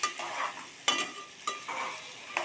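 Crab curry masala with tomatoes and onions stirred in a frying pan, a spoon scraping and knocking against the pan at irregular intervals over a soft, steady sizzle, close and fairly quiet.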